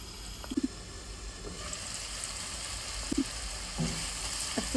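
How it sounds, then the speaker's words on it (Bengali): A spoon stirs spice paste with garlic in a pan for a prawn dish, giving soft scrapes and light sizzling under a steady low hiss, with a few brief clinks. "পেস্টটারে নাড়াচাড়া করে দিলাম।"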